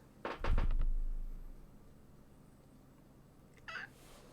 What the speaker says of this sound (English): Kitty's getting feisty.